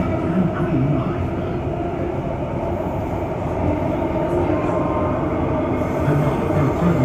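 A Dubai Metro Green Line train runs with a steady, loud rumble of wheels on track and a constant cabin hum, broadband and unbroken throughout.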